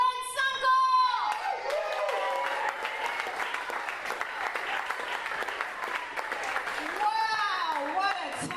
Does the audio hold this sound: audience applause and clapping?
yes